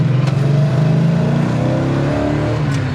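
A 1968 Pontiac LeMans GTO tribute with a new clutch, pressure plate and throwout bearing accelerates from a stop. Its loud, close engine roars steadily and climbs in pitch, with no voices.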